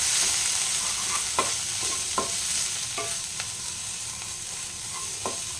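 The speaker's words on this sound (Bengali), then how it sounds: "কাশ্মীরি লঙ্কা গুঁড়া 1 চামচ, ধনে গুঁড়া 1 চামচ, এটা ভালোভাবে একটু কষে নেব।" Ground cumin, Kashmiri chili powder and coriander powder are stirred and sautéed in hot oil in a pan for egg do pyaza, with a steady close sizzle under occasional soft scraping taps of the spoon.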